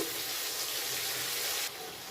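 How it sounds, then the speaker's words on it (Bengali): Water pours in a steady splashing rush into a pan for a couple of seconds, then cuts off, leaving a quieter hiss. "বাটির মধ্যে জল দিয়ে জলটা এবার দিয়ে দিচ্ছি"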